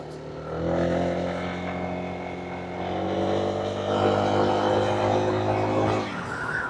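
Exhaust note of a Honda Click 160 scooter while riding toward a highway, a steady droning hum with layered harmonics that swells slightly as it pulls along, close and continuous with no talk.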